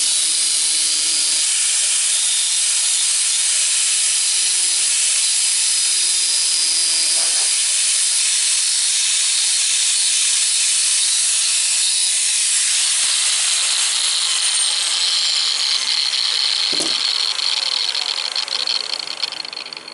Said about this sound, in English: Gotta grind a little more off there, but this will work.